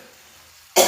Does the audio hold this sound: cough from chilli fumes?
yes